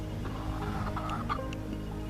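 Chickens clucking softly and continuously in a backyard garden coop, a low steady murmur of hens with a few brighter calls rising above it.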